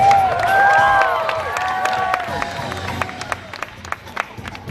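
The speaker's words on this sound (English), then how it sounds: "Let's get a round of applause for our volunteers." A live stunt-show audience cheers loudly at first with raised voices, then settles into scattered, fading clapping for the volunteers.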